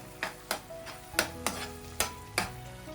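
Atta halwa with pistachios is stirred in ghee in a pan, with repeated scraping strokes roughly every half second over a soft, continuous sizzle, close and alone.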